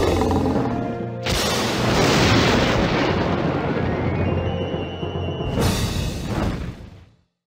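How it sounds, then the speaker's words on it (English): Booming rumble and crackle of a raging fire as two lions fight in The Lion King animated storybook PC game, a loud sustained roar with a heavy hit near the start and another burst before fading out. "The two lions fought as a fire raged behind them."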